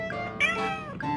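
A cat meows several times in quick succession, close and clear over a steady background hum.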